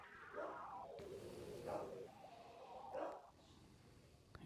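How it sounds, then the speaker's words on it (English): A dog barks and yips in the background of a home recording space, a few muffled, moderately faint barks and whines spread over several seconds. "I don't know if you guys can hear my dog in the background."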